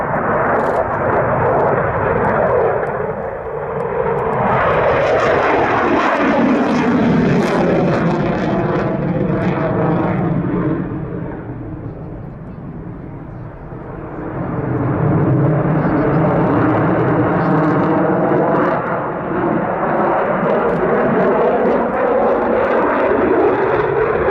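Aircraft engine noise rises and passes overhead as a played sound effect, a loud sustained roar that swells, dips briefly, then surges again.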